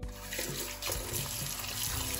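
Warm tap water from a household faucet running into a bowl to soak noodles for Filipino seafood palabok, a steady close splashing stream with slight shifts in pitch as the bowl fills.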